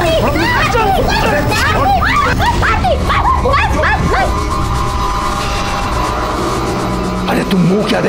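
Dog barking in quick yappy bursts and whines over a lively crowd of voices and children, close and loud, with the barking fading into continuing chatter.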